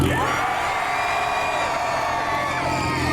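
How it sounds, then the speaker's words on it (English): A crowd of car enthusiasts cheers and whoops for a Ford Focus at a street car meet, a loud, dense wall of shouting and yelling that holds steady throughout. "We're going to do one more cheer"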